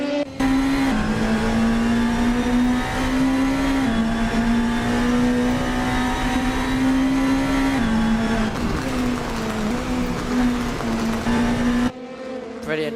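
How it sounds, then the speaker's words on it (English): DTM race car in Assetto Corsa, its engine droning loud and steady while gear changes shift the pitch through upshifts and downshifts, with a sharp drop near the end. "Brilliant downshifting noises, and then upshifting all the while as well"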